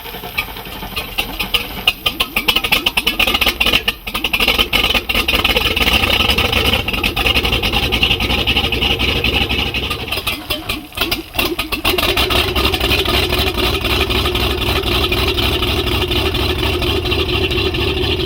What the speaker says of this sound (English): Both engines start almost immediately.